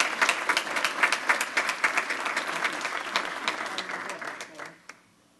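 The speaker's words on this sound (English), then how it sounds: "Another round of applause, please." An audience at a school district board meeting gives a round of applause, a dense burst of clapping that holds steady then thins and fades out near the end.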